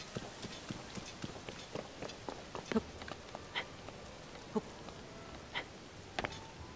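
Video game rain from Tears of the Kingdom falls as a soft, steady patter with scattered sharper drips and light taps, fairly quiet and with no talking over it.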